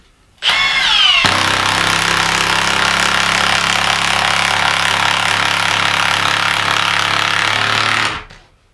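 A Milwaukee M18 Fuel 1/2-inch mid-torque impact wrench with friction ring drives a bolt in one steady, loud, rattling hammering burst lasting about eight seconds, close up, then stops abruptly.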